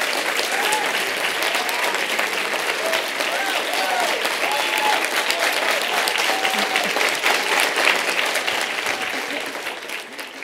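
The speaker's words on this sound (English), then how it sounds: "Everyone, please welcome Dr. Christina Hoff Sommers." A conference audience applauds a speaker's introduction at a Young America's Foundation event, a dense, sustained crowd clapping lasting around ten seconds with some cheering mixed in, fading slightly at the end.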